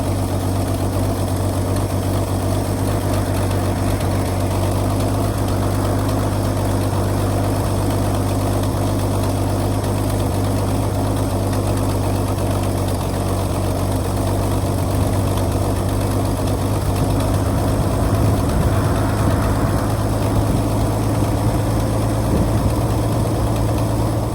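An old Ford truck engine idles steadily after starting, having not run for a year and drawing fuel from the bowl, a loud, constant low rumble with no talking.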